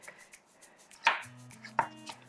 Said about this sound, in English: I'm just going to cut this up kind of small so that the food processor can do its work a little quicker and easier